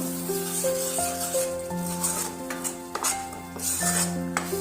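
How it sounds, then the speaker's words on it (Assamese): A spoon stirs mixed vegetable curry with milk-enriched gravy in a pan, giving scattered clinks and scrapes against the metal under sustained melodic background tones. "এইখিনি দি লৈ ভালদৰে লৰাই দিব"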